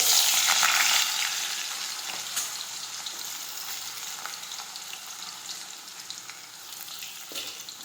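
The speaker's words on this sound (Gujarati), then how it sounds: "હવે આપણું તેલ છે તે ગરમ થઈ ગયું છે હવે આપણે તેમાં લસણ નાખી દઈશું રાઈ અને જીરું નાખીશું બટેટા સમારેલા નાખીશું" Garlic, mustard seeds, cumin and chopped potatoes hit hot oil for a cauliflower-potato curry with a loud burst of sizzling that settles into a steady crackle with occasional stirring taps, no voices.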